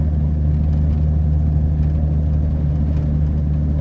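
A 1982 Ford F150 pickup's engine runs steadily during a test drive, a constant low rumble with strong bass hum and no pauses, close and loud.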